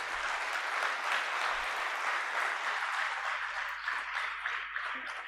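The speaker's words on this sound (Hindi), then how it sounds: "एक बार सबके लिए ताली तो बजाइए।" At a Rajyoga open session, an audience applauds the speakers with a full, steady wave of clapping that carries on evenly for several seconds and eases slightly at the close.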